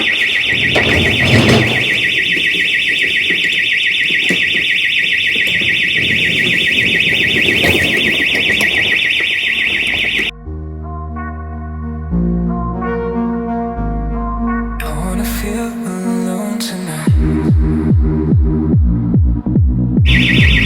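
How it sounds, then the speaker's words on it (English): An alarm goes off at 4:30 in the early morning, a loud steady electronic tone sounding without a break for about ten seconds before it stops and a run of other layered tones follows. "4:30 in the morning and the alarm's going off."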